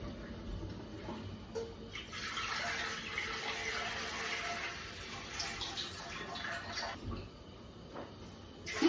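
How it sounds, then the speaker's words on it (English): Tap water runs into a canner pot as it fills with 3 quarts, a steady rushing pour that swells in the middle and eases off before stopping near the end, heard close up. "we're going to fill our canner up with 3 quarts of water."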